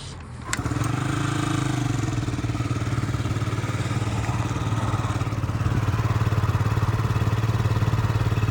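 A Yamaha Jog SA36 fuel-injected scooter from Japan starts with a quick crank and then idles steadily, a close, even putter with a fast regular pulse that holds for several seconds with no talking.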